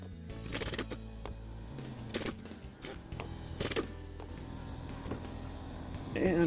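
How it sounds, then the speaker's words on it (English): An impact wrench with a 19 mm socket rattles in several short bursts as lug nuts come off a travel trailer wheel, with pauses between bursts and a brief voice at the end. "19 millimeter socket on the impact. Quickly remove all of these lug nuts."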